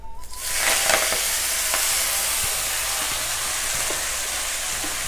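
Fresh fenugreek (methi) leaves hit hot oil seasoned with a pinch of asafoetida, bursting into a loud, steady sizzle with a few stirring scrapes early on, the frying continuing evenly and close up without any voices.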